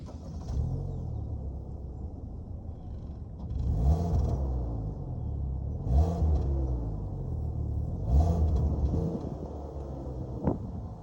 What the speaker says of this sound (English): that was your 2-liter 4-cylinder sold by Kia